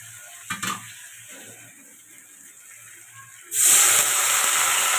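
Water poured into a hot pan of frying spices and chilli powder for a fish curry erupts in a loud, steady sizzling hiss after a few quiet seconds of soft kitchen clatter.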